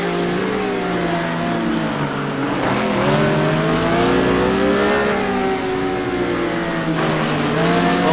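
Porsche race car in a GT2 racing game at Interlagos, its engine revving loud and continuous while a BMW races close by, the pitch climbing and falling through gear changes for the whole stretch, with no talk over it.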